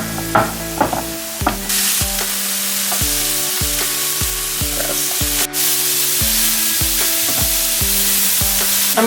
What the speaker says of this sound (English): I'm gonna stir the potatoes.